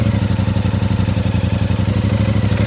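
A Royal Enfield Meteor 650 motorcycle, a 240 kilogram bike, rolls along at low speed with a steady, loud, throbbing engine note. The pulse stays even and rhythmic throughout, with no voices.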